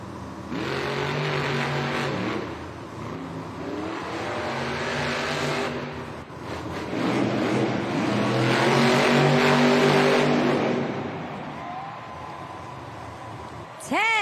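In a Monster Jam arena racing competition, the Grave Digger monster truck's engine roars and revs hard in rising, loud surges. An announcer talks over the noise of the crowd.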